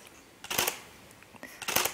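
A Nikon D780 camera fires its normal mechanical shutter twice, each release a crisp, close clack-clack of mirror and shutter, about a second apart in a quiet room.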